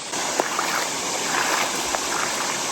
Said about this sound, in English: She keeps stirring up the water.